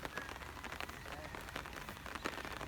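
Steady rain patters on a house construction site in the Philippines as workers carry on, a dense continuous hiss of drops with scattered sharper taps and no voices.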